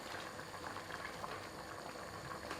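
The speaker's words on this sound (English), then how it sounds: "You just pour it in the blender, all of it." Liquid pours steadily into a blender jar, a continuous close splashing gurgle lasting a few seconds with no one talking.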